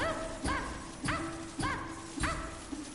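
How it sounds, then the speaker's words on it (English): A dog barks loudly and repeatedly, about five sharp barks at a steady pace, close by and standing out over a constant background hum. "loud dog is loud"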